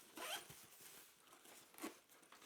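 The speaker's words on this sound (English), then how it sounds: "let's slide the slider all the way along the zipper" A metal zipper slider runs along the zip of a Nike shoe box bag with a cardboard frame, giving two quiet, short rasping pulls with a pause between them.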